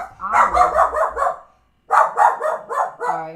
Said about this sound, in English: Sorry, barking in intermission.